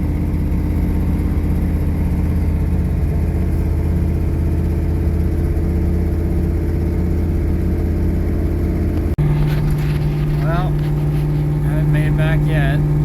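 Factory 454 big-block V8 in a 1973 Chevy Cheyenne Super C10, revived after being seized, droning steadily while the truck drives at low speed. The engine note shifts midway, with faint chirps on top.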